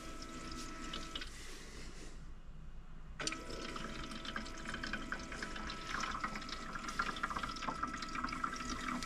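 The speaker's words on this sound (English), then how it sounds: "what's going on now is the water that's down inside is being pulled up" Water gurgles and trickles inside an Insignia portable ice maker as its pump draws water up into the rotating basket, soft and close, with a brief quieter pause before the flow resumes.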